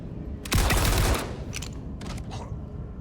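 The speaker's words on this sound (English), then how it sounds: "He kept shooting after he was dead" Gunfire in the Star Citizen video game: one sharp burst of rapid shots near the start, followed by a few fainter, scattered shots trailing off.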